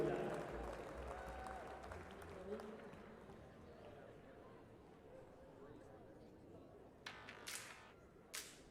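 An arena crowd at a college men's basketball game applauds a trivia-night contestant. Distant, faint clapping and crowd noise run steadily throughout, with a few sharper bursts near the end.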